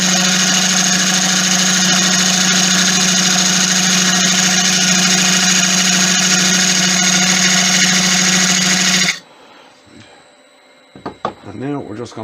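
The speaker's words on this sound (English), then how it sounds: "I'm going to grab a parting tool and define the width of the bowl." A parting tool works a wooden bowl on a lathe, with a loud, steady motor hum and whine lasting about nine seconds before cutting off abruptly, followed by scattered knocks and handling noises.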